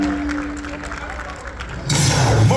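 Applause from a convention crowd at the Westgate Resort & Casino in Las Vegas welcomes a band, bursting in loud and dense partway through after a stretch of announcer talk.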